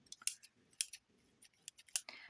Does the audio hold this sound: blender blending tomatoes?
no